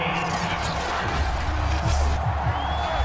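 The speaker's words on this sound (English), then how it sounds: "Plenty of shouts from this crowd as they watch the replay" A dense football stadium crowd at an NFL wildcard playoff between the Chargers and Texans shouts and roars in a steady, distant wash of noise while a replay is watched.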